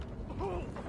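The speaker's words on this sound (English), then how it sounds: "Loading new mag." Short mechanical clicks and creaks of a weapon magazine reload in Warzone, a single quiet sequence of ratcheting metal movement lasting under a second, with no talk.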